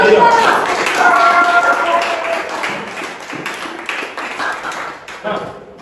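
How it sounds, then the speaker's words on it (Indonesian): A classroom of students claps for a classmate, a brief burst of hand claps that starts loud and thins out quickly, with a faint murmur of voices underneath. "Beri tepuk tangan kepada Ridho."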